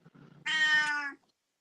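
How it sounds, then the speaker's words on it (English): A pet cat lets out one loud, drawn-out meow with a crying tone, lasting about a second, close by after some faint low rumbling. "my cat's crying"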